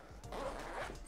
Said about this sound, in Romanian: Are un fermoar aici destul de gros